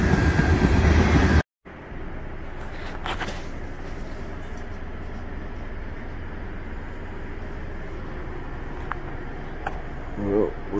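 A train rolls past outdoors during a rainy ride, a steady broad rumble with rail noise that fills the whole stretch after a short dropout, with faint thuds and talk-like sounds near the end.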